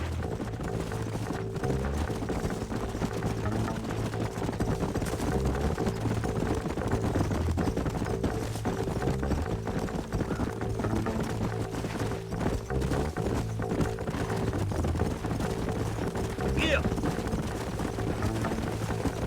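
Rhythmic clip-clop of horses' hooves runs steadily under a low rumble and background music in the video game Red Dead Redemption.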